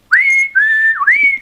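A bright human whistle, sampled from the hockey game Blades of Steel, plays a short clear melody of three sustained, gliding notes, loud and close with nothing else around it.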